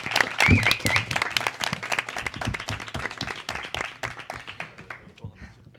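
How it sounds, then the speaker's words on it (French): An audience claps during a live student-union web radio launch broadcast, with a dense burst of applause that starts loud, then thins and tapers off over several seconds, with some voices mixed in. "Voilà, on applaudit."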